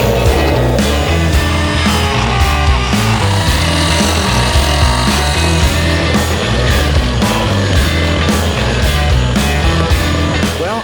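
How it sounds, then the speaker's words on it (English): A cordless Dremel with a grinding bit scuffs around drilled holes on a sailboat, giving a continuous buzzing, rasping whine with a steady texture and brief stutters as the bit moves, loud and close with no talking. "I'll use my fancy new cordless Dremel with this grinding bit just to make sure that everything's kind of scratched up"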